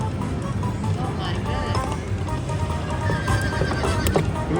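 A horse neighs within an elephant-themed slot machine game, mixed into a dense wash of loud casino jingles, clip-clop effects and background chatter.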